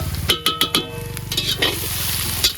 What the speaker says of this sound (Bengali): এখন আমরা মশলাটা একটু কষিয়ে নেবো, একটু হালকা করে দিয়ে দিচ্ছি মশলা।